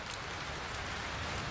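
Steady rain falls in the Australian heat, a dense continuous patter and hiss with no voices, evenly loud throughout.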